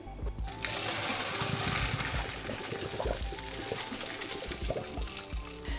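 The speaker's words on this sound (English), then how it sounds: "I wanna drain this pasta" Cooked pasta is drained, its cooking water poured out in a continuous rushing, splashing gush lasting several seconds, close and fairly loud with no talking.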